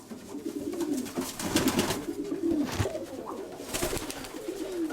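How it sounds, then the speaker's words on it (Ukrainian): Lightweight working pigeons coo close by in a loft, with repeated soft low throaty calls that overlap in uneven bursts. "легенькі такі всі голуби, жорсткі, помітно, що робочі голуби, робочі"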